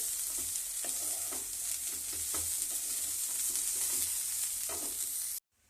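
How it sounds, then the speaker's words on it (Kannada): Loud, continuous hiss of cauliflower frying in a pan, with crackling and occasional stirring knocks, steady throughout before cutting off abruptly at the end. "ಇದು ಫ್ರೈ ಆಗ್ತಿದೆ, ಚೆನ್ನಾಗಿ ಫ್ರೈ ಆಗಿದೆ"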